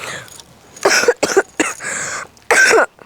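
Several loud, close coughs in quick bursts, some rasping and drawn out, separated by short silences.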